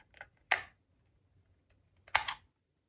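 A plastic plug adapter clicking onto the charging cord of an Omnilux Contour LED mask, two short sharp snaps about a second and a half apart in an otherwise quiet room.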